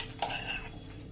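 A spoon scrapes and clinks faintly against the metal inside a pressure cooker while ghee is spread around it, making a short, quiet scraping sound.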